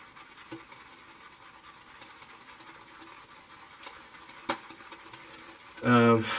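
A shaving brush swirls Tombstone shaving soap from Phoenix Artisan Accoutrements in a shave bowl, giving a soft, steady scratchy lathering rustle close by, with a couple of sharp taps and a brief voice near the end.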